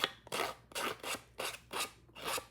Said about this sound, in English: I roughed up the edges with our paper snips